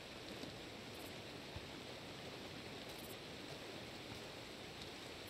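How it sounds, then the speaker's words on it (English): A steady, broad rushing roar of a waterfall in the video game Days Gone, continuous and fairly quiet, with no voices. "We're at a waterfall."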